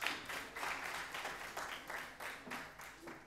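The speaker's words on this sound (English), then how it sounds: "A huge round of applause to get her started." Faint, distant applause from an audience at a Mothers and Women's Day event rises in soft, steady waves, with no clear voices over it.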